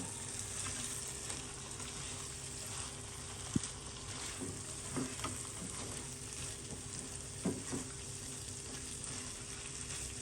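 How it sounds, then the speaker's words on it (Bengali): Quail being turned and fried in spiced masala give a steady close sizzle throughout, with scattered soft knocks and scrapes of stirring. "এগুলোকে একটু উল্টে পাল্টে মশলার সাথে মিশিয়ে নেব।"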